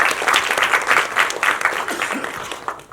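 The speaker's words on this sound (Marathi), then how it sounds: "संजय मोरेंसाठी सुद्धा जोरदार टाळ्या झाल्या पाहिजे" Sustained audience applause at a film cast reunion party, dense and loud with overlapping claps rising and falling in waves throughout, no talk.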